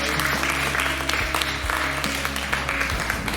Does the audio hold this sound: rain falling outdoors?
no